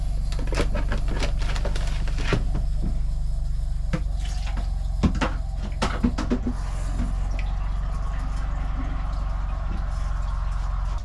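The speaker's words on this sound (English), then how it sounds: "I'm gonna turn the water back on" Steady running water hisses from a tap or pipe as the supply is turned back on in a tiny off-grid cabin, flushing the system, with clanks and knocks over a constant low hum, close and continuous.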